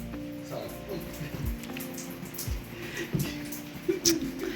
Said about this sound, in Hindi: इतनी तेज़ तूफ़ानी बारिश आई है